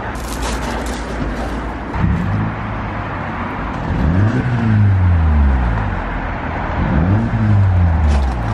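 A remapped Mini Cooper S pulls away on a road drive, engine note rising in repeated climbing sweeps through gear changes over a steady road and cabin rumble, fairly close and loud.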